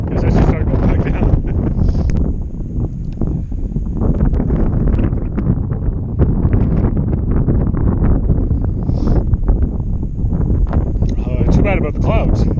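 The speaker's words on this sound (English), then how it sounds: "it's crazy windy too" Strong gusts buffet the microphone on a cloudy, cold mountain summit, roaring and rumbling continuously, with someone talking over the wind.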